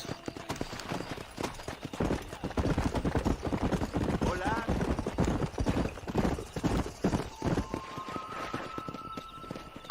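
A horse galloping in the video game Red Dead Redemption: quick, rhythmic hoofbeats pounding close and loud, with a brief whinny and voices talking over the riding.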